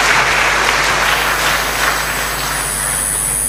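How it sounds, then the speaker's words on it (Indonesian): Audience applause for a woman honored as an inspiring female figure at a Gusdurian gathering, a steady dense wash of clapping throughout, loud and continuous with no talk over it. "Kita kasih aplaus untuk Mbak Inayah."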